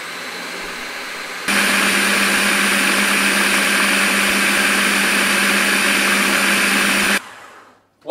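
A blender blitzes herb salsa with apple cider vinegar, a loud, steady whirring roar that starts abruptly, runs continuously for several seconds, then cuts off and spins down.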